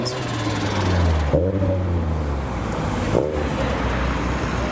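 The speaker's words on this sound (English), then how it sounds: "it seems the S14 that initially pulled in is now pulling out of the car park" A Nissan S14 pulls out of a car park at a Japanese car show, its low engine rumble droning steadily nearby, rising briefly twice as it rolls away, with no talking.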